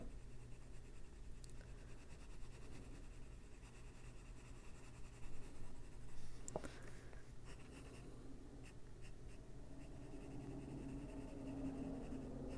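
Colored pencil shading on an adult coloring page of a cute frog: steady, quiet scratchy strokes of pencil on paper, repeating in soft rhythmic passes, close and alone.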